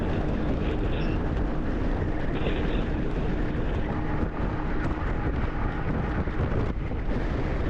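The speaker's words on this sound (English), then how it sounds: "Oh, it is windy. Look at that wind." Strong wind buffets the microphone on a Goldwing ride, producing a steady, loud, low roar that fills the whole clip.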